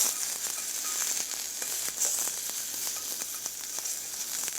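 Cucumber hitting a lightly oiled hot pan, a close continuous crackling sizzle with scattered sharp pops throughout, no voices.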